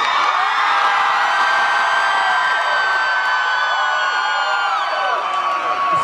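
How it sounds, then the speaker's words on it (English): A festival crowd cheers and whoops at a surprise marriage proposal amid the Toyota Country Lights, a steady, dense wash of voices holding at full level for the whole stretch. "Cheering for us."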